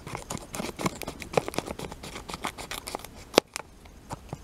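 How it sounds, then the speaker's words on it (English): Close snipping of gold scissors outdoors in the desert, a quick irregular series of small crisp cuts with a sharper snap near the end. "I'll get my gold scissors out here in the desert."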